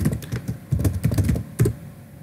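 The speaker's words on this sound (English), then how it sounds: "For example, let me type." Fingers tap quickly on a computer keyboard to enter a search term, a close, uneven patter of key clicks with a brief pause near the end, no voices.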